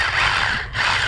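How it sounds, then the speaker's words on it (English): A power drill works on a glue-in climbing bolt at an outdoor crag, a loud, steady whirring grind up close with a brief dip before it resumes. "I'm going to be doing a little drill work real quick to fix this bolt"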